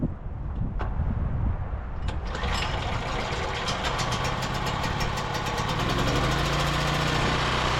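A Certified 4450/3550 portable generator engine starts and runs close by, settling into a loud, steady mechanical drone with a rapid rhythmic firing pulse throughout.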